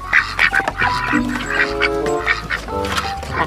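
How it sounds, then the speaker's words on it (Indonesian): A duck quacks repeatedly in loud, nasal bursts close by, with some background voices and a dog-like bark mixed in beneath the calls. "ini bebek teman-teman"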